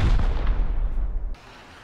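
Rocket in the video game Rust, a loud booming blast with heavy low rumble that rolls on for over a second and then cuts off abruptly to quiet.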